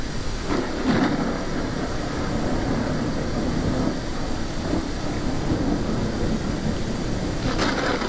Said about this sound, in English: So the rain is a little heavy for this tree.